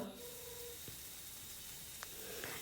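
Onion, green chillies, ginger and garlic with curry leaves sautéing in a pan: a soft, steady sizzle and hiss, fairly quiet, broken by a few light clinks of a spoon against the pan.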